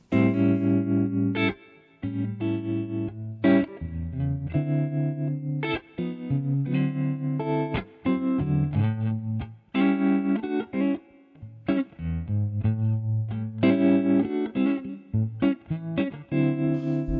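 Electric guitar plays chords and riffs through a Boss Katana Artist MkII amp with a pulsing tremolo, the volume rhythmically wobbling on sustained notes, clean and close.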